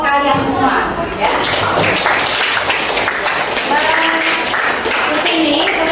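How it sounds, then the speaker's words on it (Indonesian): A classroom of students claps for themselves while a teacher's voice carries over the top, the scattered claps and taps blending with talk throughout. "Tepuk tangan untuk kalian semua, ya."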